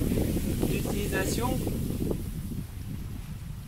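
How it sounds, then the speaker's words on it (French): Strong outdoor wind buffets the microphone with a loud, steady roar while someone speaks briefly over it. "Il y a un vent de ouf"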